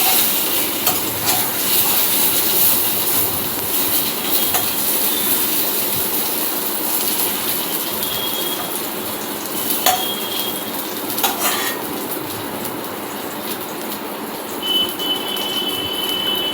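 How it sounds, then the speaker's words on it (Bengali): Potatoes frying in oil in a home kitchen, browning to a reddish colour: a steady, fairly loud crackling sizzle runs throughout, with occasional sharp clicks and clatters of stirring. "ওদিকে আলুটাও ভাজা চলছে, মোটামুটি আলুতেও রং ধরে গেছে, আলুটাও হয়ে এসছে ভাজা ভাজা, লাল লাল করে ভাজা হচ্ছে।"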